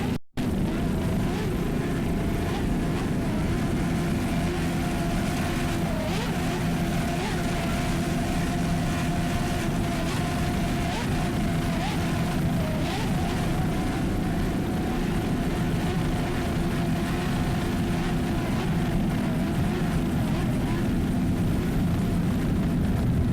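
The engines of a 24-foot Rindle racing powerboat roar through the 2002 Key West powerboat race. The drone stays loud and continuous, with a faint whine in it.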